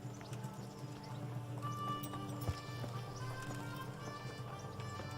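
Horse hooves clip-clopping at a steady trot in the medieval game Kingdom Come: Deliverance, rhythmic and fairly close over a soft ambient background with a faint thump midway.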